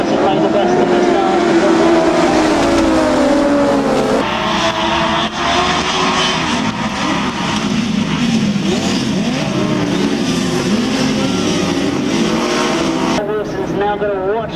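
1000cc right-hand sidecar grasstrack outfits race past with loud, continuous engine roar and revving that rises and falls as machines pass, while a commentator talks over the noise.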